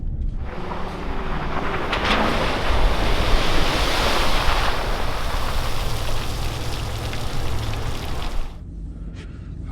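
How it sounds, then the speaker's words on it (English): A 2019 Ram 2500 Power Wagon fords a creek; a loud, continuous rushing and splashing of water lasts for most of the stretch and then cuts off near the end. "we can't not take the Power Wagon through some mud and water"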